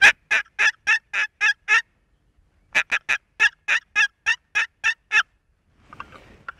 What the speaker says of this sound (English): And so that's the box call.